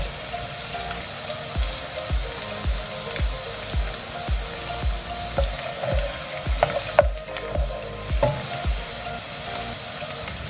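Onions fry in a hot pan for a Bengali fish and bean curry, a continuous close sizzle punctuated by regular scraping strokes of a spatula stirring them.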